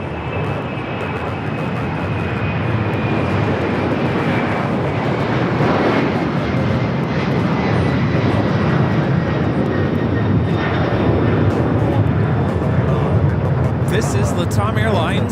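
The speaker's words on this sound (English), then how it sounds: "This is Latam Airlines 2479, excuse me, taking off to Lima, Peru on the 767 300ER" A LATAM Airlines Boeing 767-300ER takes off at LAX with a strong tailwind, its loud, steady jet engine roar filling the whole stretch with a faint high whine on top and no letup.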